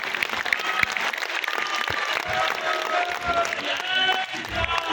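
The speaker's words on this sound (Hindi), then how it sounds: "एक बार जोरदार तालियों के साथ" Loud applause from a crowd at a Uttar Pradesh intellectuals' gathering with the Chief Minister, dense rapid clapping mixed with cheering voices and shouts, sustained and energetic throughout.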